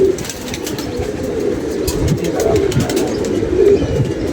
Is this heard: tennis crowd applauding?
no